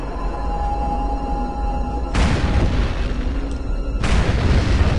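Booming weapon fire and explosions from the video game Turok 2: Seeds of Evil, two heavy blasts a couple of seconds apart over a steady game-ambience hum.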